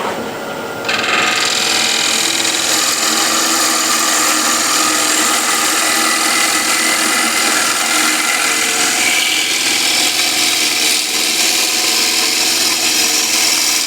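Wooden bowl spinning on a wood lathe at 1200 RPM, a loud continuous whirring rasp that kicks in abruptly after a quiet start and holds steady and close throughout.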